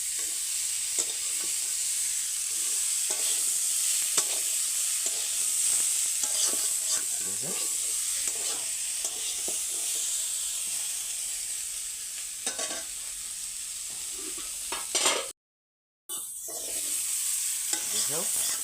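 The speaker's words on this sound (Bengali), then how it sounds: "আলু ভাজা" Steady sizzling of cauliflower and potatoes frying in a pan, with occasional stirring scrapes, continuous and close, broken by a brief silent gap near the end.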